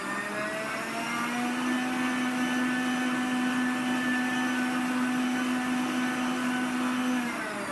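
An electric hand mixer beats chocolate chip cookie dough in a bowl, a steady loud whirring motor drone that holds at full speed for about seven seconds, then cuts off near the end.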